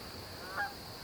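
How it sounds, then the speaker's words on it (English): A single short goose honk from a small flock on a marsh, fairly faint and distant, rising briefly over a steady background hiss. "A little flock of geese just floated in."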